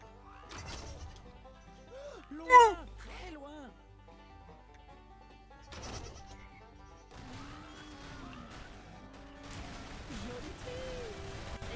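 Cartoonish sheep bleats from the video game Skylanders Trap Team, a sharp warbling cry standing out between crashes, thumps and game music, with other short game effects scattered through.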